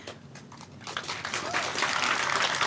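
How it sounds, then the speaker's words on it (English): An outdoor crowd at a junior lifeguard facility dedication breaks into applause that starts sparse and swells into steady, fairly close clapping. Voices murmur underneath the clapping. "I love that clapping started from the JGs."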